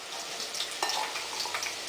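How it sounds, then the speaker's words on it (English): Chopped onion frying in a quarter cup of heated extra virgin olive oil over medium heat, a steady close sizzle with faint crackles and a stir. "Frying the onion in 1/4 cup of extra virgin olive oil."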